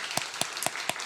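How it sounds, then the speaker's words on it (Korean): A church congregation at a Sunday morning service claps in slow, even unison, about four or five sharp hand claps in a second, close and clear with no talk over them. "우리 박수하겠습니다"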